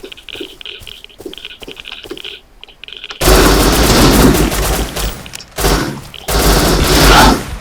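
Quiet muffled sounds give way to loud, sustained bursts of rapid gunfire in the video game Rust, with short pauses between volleys, sounding close and dense.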